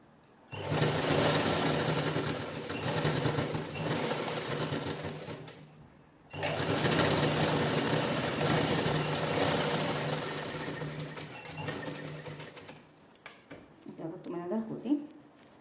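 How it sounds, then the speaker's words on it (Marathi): A sewing machine stitches a jeans top made from a saree in long, steady whirring runs with a short pause between them. Someone talks over the machine noise. "आणि शिलाई करून घ्यायची."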